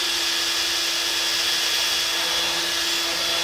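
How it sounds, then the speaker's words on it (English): A sanding ball in a high-speed rotary tool sanding the edge of a Les Paul guitar body being converted to a National Newport, giving a steady, close, high-pitched whine and grinding hiss without pause. "I gently move it around like that so it sands away the edge"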